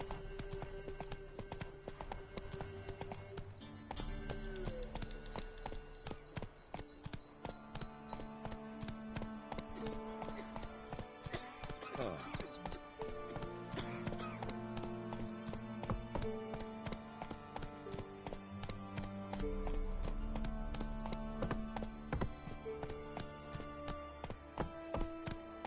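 The horse Roach galloping in The Witcher 3, a steady clip-clop of hooves running for the whole stretch under a continuous layer of game music.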